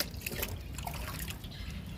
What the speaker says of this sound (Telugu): మొక్కలకి వాటర్ ఇస్తున్నాను.